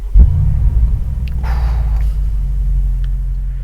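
A Mercedes-AMG G63's engine rumbles in a deep, steady low drone, loud and continuous, with a brief higher swell partway through and no talking.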